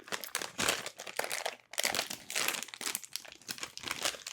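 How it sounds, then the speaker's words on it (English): A banana is peeled close up with a steady run of soft crinkling, tearing and rubbing sounds. The sound is continuous with small bursts and has a brief pause midway. "I gotta peel one of these bananas"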